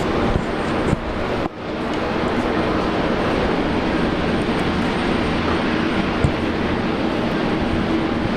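An airliner on a long taxi toward the international terminal at Brisbane Airport produces a steady, loud jet engine roar that fills the scene evenly, with no talk.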